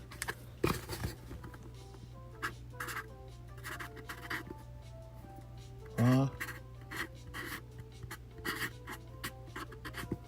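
A pen scratches and scribbles on a small booster box in a card shop, short bursts of writing strokes over a low steady hum, with a brief thud midway.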